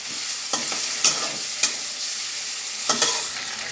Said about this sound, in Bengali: এখন এগুলোকে একটু ভেজে নেব